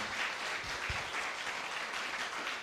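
A room full of people at a panel discussion applauds steadily, dense clapping at moderate volume that continues throughout.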